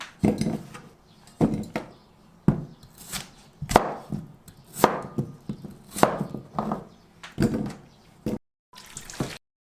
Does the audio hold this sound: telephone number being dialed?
no